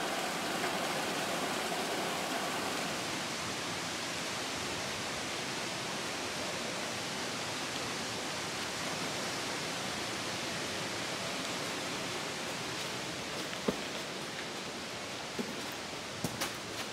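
Waterfalls on a mountain torrent, a steady broadband rush of falling water heard at a distance, even and unbroken throughout with no talk.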